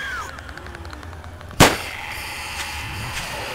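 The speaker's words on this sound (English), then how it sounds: "Gotta use my pistol." A single sharp pistol gunshot in the survival video game 7 Days to Die, loud and close, standing out above quiet ambient game sound.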